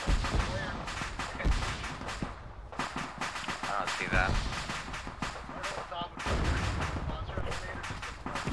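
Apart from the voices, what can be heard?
ammunition cooking off in Arma 3 video game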